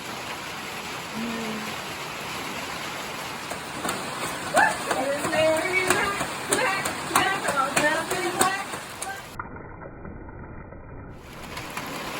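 Rain falls on a hiking trail between Standing Indian and Franklin as a constant broadband patter. People talk over it in the middle stretch.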